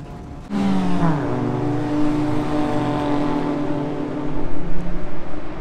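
A kei car races down a winding mountain road, its small engine droning loud and close with a pitch that climbs and dips through gear and throttle changes, fluttering rougher toward the end.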